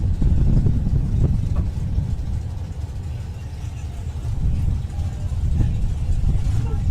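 A BMW E36 race car engine at the Festival of Power, a deep, loud motor note that swells and eases as it passes, with faint talk in the background.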